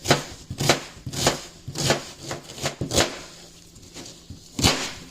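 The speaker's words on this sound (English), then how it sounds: "Now we cutting up this onion." A knife chops an onion on a board for a Southern-style beef stew, sending out a string of sharp, evenly spaced thuds with short pauses between them, close by and fairly loud, with no voices.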